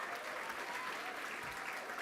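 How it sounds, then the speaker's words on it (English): An audience applauds an Accounting Graduate of the Year at a university graduation ceremony in London, a dense, even clapping that holds steady throughout and sounds somewhat distant. "Give her a round of applause."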